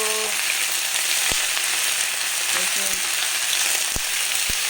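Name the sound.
Malabar spinach (pui shak) frying in a pan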